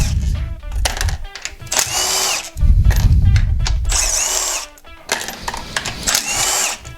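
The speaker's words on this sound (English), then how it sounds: "Make sure if you're using an impact gun, keep it in the low setting, so if there is a stuck bolt, it doesn't just break the bolt on you." An impact gun on its low setting spins bolts off a Kawasaki 650 SX jet ski engine during teardown, in several loud, close bursts of whirring and rattling separated by brief pauses.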